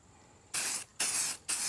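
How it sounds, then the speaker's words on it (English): Black spray paint hisses from an aerosol can onto a car's fuel door in three short bursts with brief pauses between, close and loud. "She's all dry, ready for some black paint. So, spray it on."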